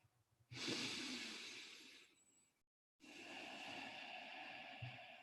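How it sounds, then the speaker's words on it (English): Slow, close breaths in and out, soft airy rushes of air lasting a couple of seconds each, separated by a brief pause of silence. "Breathing in, stillness, breathing out."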